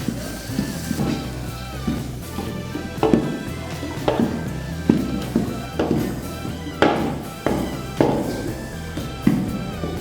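Chicken with onion and coconut is stirred in a pan over a gas stove, with repeated loud scraping and knocking strokes of a utensil against the pan in a regular rhythm over a low background hum.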